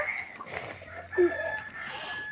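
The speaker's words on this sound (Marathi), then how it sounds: "हा कोंबडा बघायचा सप्पू सगळ्या कोंबड्यांना आवाज देत आहे" A rooster calls out to a flock of hens on a farm, a short crowing cry rising over quieter background clucks and ambient noise.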